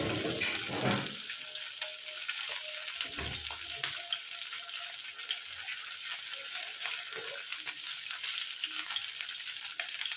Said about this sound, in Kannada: ಇದಿವಾಗ ಎಣ್ಣೆ ಕಾದಿದೆ. ನಾವು ಈ ಫಿಶನ್ನು ಇದರೊಳಗೆ ನಿಧಾನಕ್ಕೆ ಬಿಟ್ಕೊಳ್ಳೋಣ.